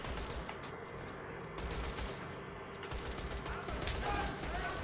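A gun in the video game Borderlands 2 fires in a dense, continuous automatic stream, loud and close, with a player's voice speaking over the gunfire.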